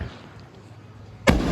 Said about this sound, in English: Fireworks for the people that know.